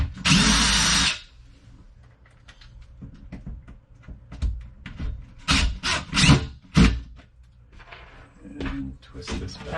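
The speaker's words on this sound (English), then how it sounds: "Drill this." A power drill bores into a wall while a closet shelf is being installed: one loud sustained burst up close at the start, followed by quieter handling knocks and a person talking.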